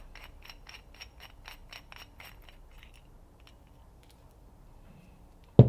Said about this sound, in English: Once we have those out, we can unscrew this off.